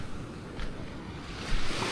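Sea waves at high tide wash up into a beach campsite, a broad rushing surf with soft swells and a louder surge near the end, wind blowing over the microphone, no voices.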